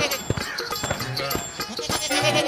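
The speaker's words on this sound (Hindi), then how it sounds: "राम राम सुमन काकी, इतनी धूप में इस बकरी को गोद में उठाए कहाँ चली जा रही हो?" A goat carried in a woman's arms through a village at midday bleats several times, wavering nasal cries close by, with light background sound and little talk.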